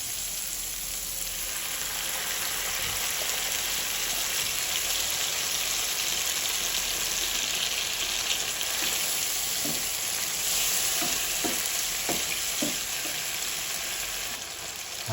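Tomatoes and fried mega sardines sizzle loudly and steadily in a hot pan of oil for the whole stretch, with a few soft stirring knocks near the end.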